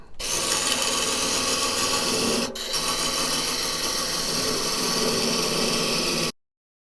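Wood turns on a lathe as a tool cuts a tenon down to a corner, a continuous bright rasping scrape with a brief dip partway through, alone and close.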